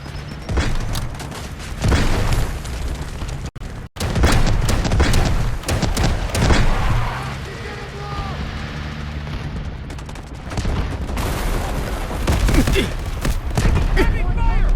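Heavy gunfire fills a Delta Force Mobile battle, with dense, loud bursts of rifle and machine-gun shots and booming blasts continuing almost without pause, and voices calling out between the shots.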